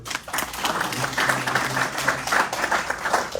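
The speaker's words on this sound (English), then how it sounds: "So real quick round of applause for." Audience applause at a retirement ceremony, a steady wash of many hands clapping at once that holds at an even level throughout.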